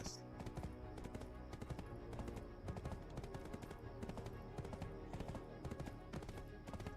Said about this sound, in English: I'm trying to figure out why this horse wasn't sprinting.